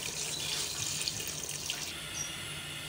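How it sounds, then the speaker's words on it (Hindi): Water pours steadily into a pressure cooker holding browned beef for daleem, a close, continuous splashing stream with a slight shift in tone near the end. "1 लीटर पानी ऐड करेंगे"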